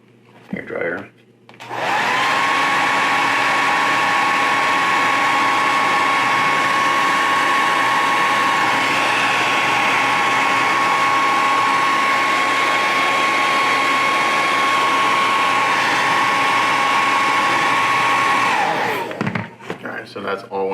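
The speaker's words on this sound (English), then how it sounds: "Hair dryer." A hair dryer blows steadily and loudly for most of the clip, a constant whirring drone that starts and stops abruptly, with a brief bump near the end.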